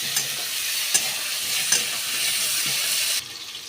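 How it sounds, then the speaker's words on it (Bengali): Spice masala with turmeric, cooked for a vegetable khichdi, fries in a pan with a bright, constant sizzle, punctuated by a few stirring knocks, before the sound drops off near the end. "আমি আবারও খুব ভালো করে নাড়াবো এবং মশলাটাকে খুব ভালো করে বন্ধুরা কষিয়ে নেব"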